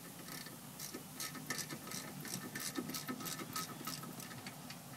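Small fine-thread screw being worked into a brake assembly on a 2002 Hyundai Elantra, giving a quick series of light metallic ticks and clicks, close and steady, with no talking.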